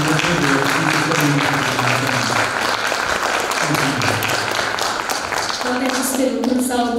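An audience gives sustained applause for teacher Miruna Avram, with steady clapping filling the whole stretch and some voices mixed in.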